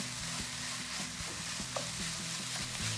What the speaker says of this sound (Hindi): और इसका आपने चमचा चलाते जाना है क्योंकि फ्लेम लो है